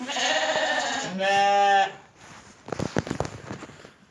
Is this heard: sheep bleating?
yes